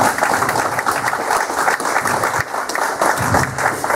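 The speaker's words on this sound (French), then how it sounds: "Vous pouvez l'applaudir." Sustained applause from an assembled crowd at a French speech event, a dense, steady wash of many hands clapping close by that holds for several seconds with only slight dips.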